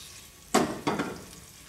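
Leeks gently sautéing over low heat in a pan for a Basque porrusalda soup, with a soft steady sizzle and two brief louder bursts of stirring, near and alone.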